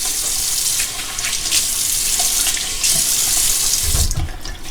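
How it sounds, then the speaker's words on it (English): Tap water running into a sink while someone splashes it onto their face before a shave with a QShave adjustable safety razor, a loud close hiss with uneven splashy bursts and a deeper slosh near the end. "And I'll splash a little water on my face."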